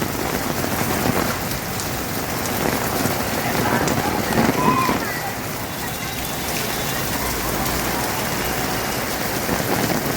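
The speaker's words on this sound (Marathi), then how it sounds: "पावसाचा जोर भरपूर म्हणजे भरपूरच आहे" Steady, dense rain pours down throughout on a city road after a night of nonstop rain, a constant broadband hiss with heavier patches near the middle and no clear talk.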